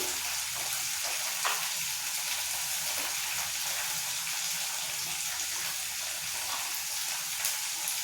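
Mushroom curry sizzling and frying in a pan while being stirred, a steady bright hiss with faint scraping, continuous and close without any voices.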